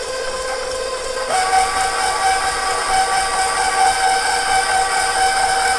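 Electric mixer beating an egg into brownie mixture, a loud, steady whirring drone close by whose pitch steps up briefly after the first second and then holds constant.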